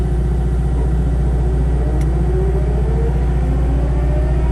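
A Caterpillar 259D skid steer runs a Diamond rotary mower on constant hydraulic flow, giving a loud, steady low engine rumble and hum close by as the blade spins up, with no voices.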